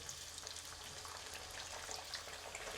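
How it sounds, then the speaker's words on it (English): Steady crackling sizzle of sliced potatoes frying in hot oil, close and continuous, with scattered pops and no voices. "We just need to fry them until the sides are brown."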